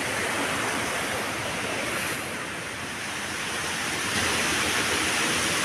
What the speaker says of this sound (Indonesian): Jadi suasana sungainya dari tempat camping seperti ini.